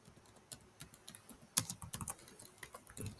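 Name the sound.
typing a folder name on a computer keyboard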